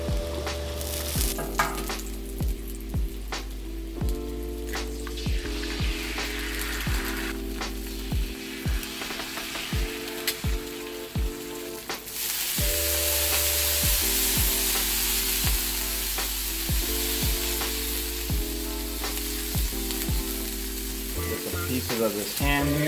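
Eggs fry sunny side up on a 36-inch Blackstone griddle, giving a loud, steady sizzle that swells and brightens partway through, with scraping and tapping from a spatula and faint background music.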